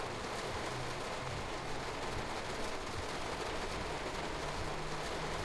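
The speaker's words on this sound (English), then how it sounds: "How is the rain so loud in the cab?" Heavy rain drums on a train cab in the Train Sim World 3 game on the Hauptstrecke Rhein-Ruhr S1 line. It is a constant, even hiss of dense rainfall, fairly quiet overall.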